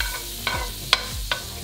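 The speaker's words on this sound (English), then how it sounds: "we're gonna start with a big dollop of butter because I want to have these caramelized" Cicadas frying in a pan of melted butter produce a soft, steady sizzle with three sharp scraping clicks from a utensil stirring, spaced roughly every half second.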